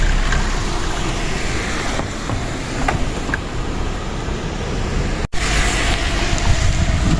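Steady traffic roars past on a highway in Japan while someone stands ready to cross it. The sound is a continuous broad rush of passing cars mixed with wind buffeting the microphone, loud and close, with no talking.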